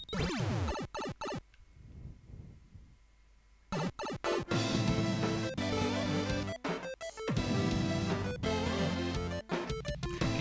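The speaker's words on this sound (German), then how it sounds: "Dieser Synth-Sound oder was das ist, ne?" Electronic synth music from the video game Super Mario Maker 2 comes in choppy bursts separated by brief pauses, with a quieter stretch early on, fairly faint throughout and without talking.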